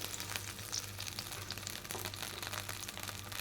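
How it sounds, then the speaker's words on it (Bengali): Small potatoes and tomato fry together in a pan for a hilsa fish curry, giving a steady, faint sizzle with light stirring scrapes and no talk. "এটা দিয়ে একটু কষাবো টমেটোটাকে"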